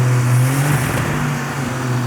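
A supercharged 1962 Slant Six engine running on a dyno, a loud, close, steady drone with a slight swell in revs, no talk over it.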